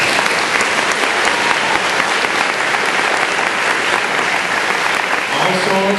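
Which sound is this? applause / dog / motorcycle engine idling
applause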